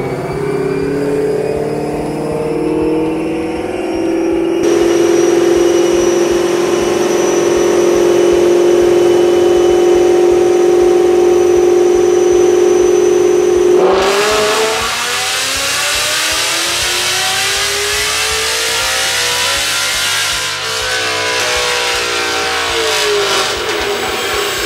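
A supercharged 2018 Roush Mustang GT engine revs loud and close on a dyno, its pitch climbing steadily through a long pull, then a sudden harsh, roaring surge that swells and eases back.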